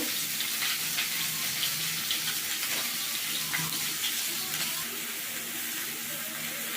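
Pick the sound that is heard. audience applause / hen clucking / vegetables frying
vegetables frying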